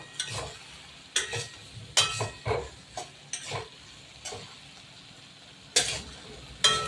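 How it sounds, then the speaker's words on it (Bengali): A spatula stirs fried prawns with taro stems in a pan, giving about ten separate scraping strokes in an uneven rhythm over a soft, low background sizzle. "এবার আমি চিংড়ি মাছটা দিয়ে দেবো ভেজে রাখা। এটা নেড়ে চেড়ে"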